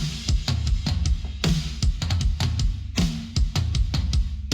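A sampled drum tom loop layered with punchy snare hits plays as a steady, fast rhythmic groove, booming low toms and crisp cracking snares repeating loud and close without any voice.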